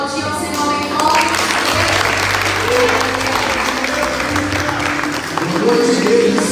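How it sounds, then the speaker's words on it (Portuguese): A church congregation at a Sunday service applauds loudly and steadily throughout, a dense wash of clapping, with musical tones and a voice briefly audible underneath. "Você pode aplaudir ao Senhor em nome"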